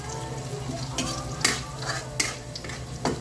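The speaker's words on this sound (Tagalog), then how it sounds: "So, pa-browning lang natin yung bawang." Garlic browns in a hot pan, sizzling continuously while a utensil stirs and scrapes against the metal in a few sharp, close strokes.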